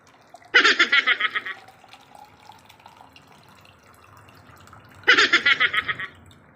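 Cold water pours into a glass in two short bursts, each about a second long with a bright gurgling rhythm, separated by a quiet pause.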